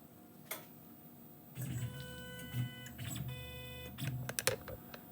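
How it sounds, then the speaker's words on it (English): Tormach CNC mill with PathPilot control homing its axes: several short motor whines and stepped tones rise and stop in turn, with faint mechanical clicks, moderately close in a quiet shop. "let me home the machine"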